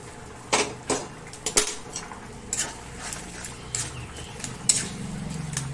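Taro greens tipped into a pan of fried spices for a vegetarian kochu shak dish with coconut, with sharp metal clatters of a spoon against the pan and soft stirring scrapes, up close with no talk.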